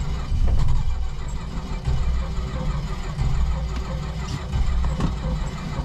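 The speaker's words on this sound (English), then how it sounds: "So I'm gonna fire this thing up. Oh, almost had it. Nope, being a little stubborn." A 1969 Dodge Coronet on a cold day cranks repeatedly, trying to start, in uneven rhythmic surges that nearly catch but fail; the engine is close and fairly loud.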